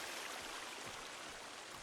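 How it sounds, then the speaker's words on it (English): Steady rushing water of a waterfall in the survival game Sons of the Forest, a constant broadband roar at low level with no other sounds and no talk. "God, the waterfalls are quite loud"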